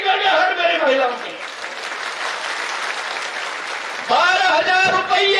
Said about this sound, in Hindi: अरे तालियों की गड़गड़ाहट मेरी महिलाओं की